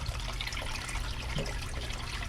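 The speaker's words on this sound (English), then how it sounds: "And you see the water coming out the bottom now?" Water running out the bottom of a Marineland Penguin 350 bio-wheel aquarium filter, a steady close trickling and splashing flow with no voices.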